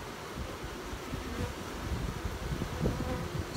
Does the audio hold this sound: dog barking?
no